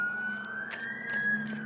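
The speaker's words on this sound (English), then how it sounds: "You know, that sound from police cars," A police siren wails steadily from a distance, a single sustained rising tone over low traffic hum with a few faint clicks.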